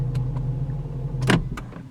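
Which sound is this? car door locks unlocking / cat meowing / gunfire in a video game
car door locks unlocking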